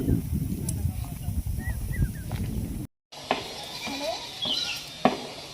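Goats bleat outdoors in a rural Bhojpuri village: a few short, faint bleats sound in the first half over wind and rustling, then after a brief cut more scattered bleats and thumps follow at a moderate distance.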